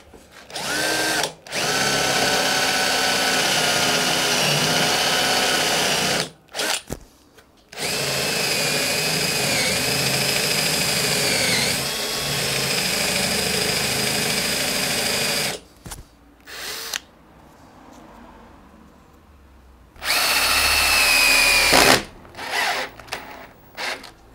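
A power drill with a Bohrmax drill guide bores into wood for a workbench build, running in several long, loud whining bursts with short pauses and brief stops between them.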